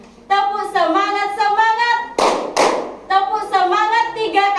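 A classroom of children does a rhythmic 'tepuk semangat' cheer during a micro-teaching lesson, with loud chanted voices broken by two sharp, close group claps in quick succession.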